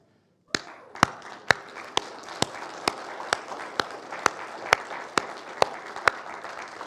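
Church congregation applauding visitors attending for the first time, a steady wash of clapping with a sharp, regular thump repeating roughly every half second on top, like a beat, throughout.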